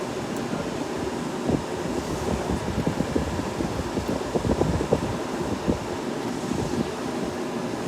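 Fedders 14,000 BTU air conditioner fan running after a motor replacement, giving a steady broadband whoosh of moving air with a low rumble, continuous and fairly close, with no talking.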